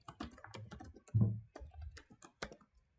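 Someone types a MySQL password on a computer keyboard at installation login, a short run of close, crisp key clicks with one heavier thump partway through, then quiet.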